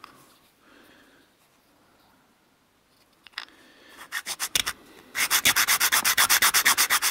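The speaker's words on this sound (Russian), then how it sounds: "Далее зачищаем, равномерно выравнивая на наждачке." Plastic is rubbed flat against sandpaper, starting with a few scattered scrapes and building into a fast, rhythmic series of loud, close back-and-forth rasping strokes.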